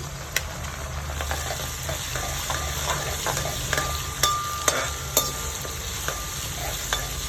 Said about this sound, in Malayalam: ഇനി ഒരു ചെറിയ കഷ്ണം ഇഞ്ചി അരിഞ്ഞു വെച്ചതാണ് അതിട്ട് കൊടുക്കാം